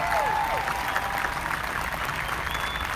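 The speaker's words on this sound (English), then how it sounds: "Let's give another round of applause to our NJROTC and our Wildcat Brigade" A high school graduation audience applauds steadily throughout, a continuous wash of clapping from many hands, with a brief voice briefly audible near the start.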